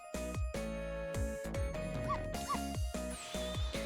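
Barking from a dog character in the Ghost Trick video game, a few sharp yips and woofs set over looping game music with steady low notes.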